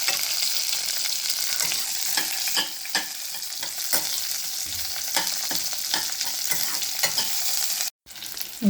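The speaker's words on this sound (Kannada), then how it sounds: "ಈರುಳ್ಳಿ, ಹಾಕಿದನ್ನು ಎಣ್ಣೆಯಲ್ಲಿ ಬಾಚ್ಕೋಬೇಕು." Onions frying in oil in a pan, a continuous close sizzle with repeated soft scraping strokes of a stirring spoon, cutting out abruptly for a moment near the end.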